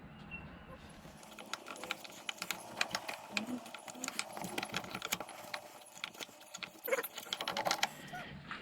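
Hand-cutting a 5mm thread with a tap or die on a bevel square in a workshop, faint irregular scraping and ticking, soft and close, a few sharper clicks near the end, no talking.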